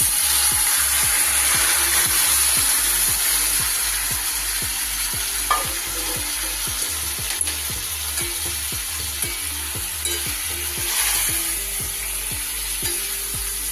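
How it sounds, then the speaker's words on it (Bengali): Onions fry in oil rendered from catla fish in a pan, a constant close sizzle with a regular, rapid scrape of a spatula stirring throughout, no talking. "মাছের তেলের সাথে পেঁয়াজটা আবারও একবার ভালো করে ভেজে নিয়ে"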